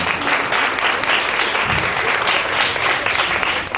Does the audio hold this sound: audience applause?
yes